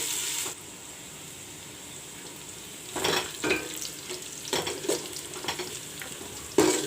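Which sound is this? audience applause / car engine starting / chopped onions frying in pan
chopped onions frying in pan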